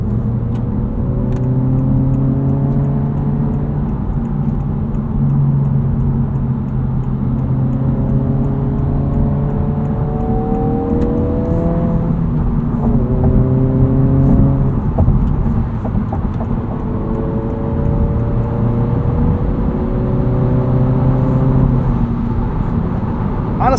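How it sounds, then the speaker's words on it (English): A 2025 Honda Civic Si's engine revs up through several gears of its 6-speed manual, each rising whine dropping back at a shift, loud and continuous from inside the cabin. "this 6-speed manual is just a pleasure to roll through the gears"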